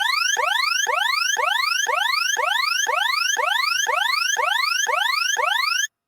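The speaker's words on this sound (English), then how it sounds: "One of the other sounds that we used was this amazing alarm for when there's a What We Like podcast alarm." Electronic alarm sound effect used as a podcast jingle: a rapid series of rising whooping sweeps, about a dozen identical loud repeats in steady rhythm, standing alone with no talk, ending abruptly.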